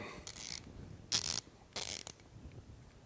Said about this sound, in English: Super nice ratchet, 90 tooth. Let me let you listen how smooth it is.